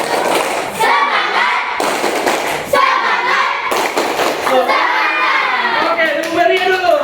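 A school class performs a rhythmic clapping cheer together, loud bursts of group claps and children's shouting in repeated phrases, with a chorus of young voices chanting between claps.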